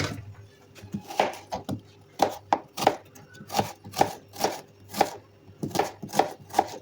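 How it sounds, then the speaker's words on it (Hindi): A knife chops onions into slices on a cutting board with a quick run of crisp, close thuds, about a dozen strokes in an uneven rhythm, with no voices. "प्याज काट लेंगे।"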